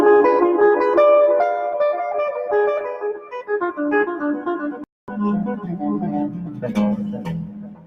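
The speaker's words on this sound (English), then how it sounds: "that famous diminished 7 arpeggio that sounds like this" A guitar runs through a fast diminished seventh arpeggio, a rapid stream of picked notes climbing and falling, loud and close with a brief break midway before the line continues.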